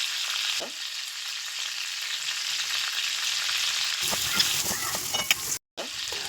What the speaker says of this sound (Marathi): आणि मग कांदा घालायचा आणि तो छानपैकी परतून घ्यायचा